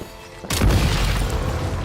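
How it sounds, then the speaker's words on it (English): Explosives set off by gunfire in Genshin Impact: a quiet game ambience breaks into one sudden heavy boom, followed by a loud, sustained rumbling blast that carries on to the end. "Shoot the explosives to detonate them and clear the path."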